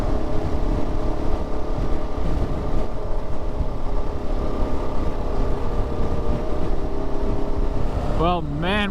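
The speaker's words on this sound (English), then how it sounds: "we're getting some pretty serious wind gusts and getting all that cold mountain air up here" Steady loud roar of wind buffeting a rider on a KTM 690 Enduro motorcycle on a mountain road in Colorado, blending with engine drone throughout, with a brief warbling tone near the end.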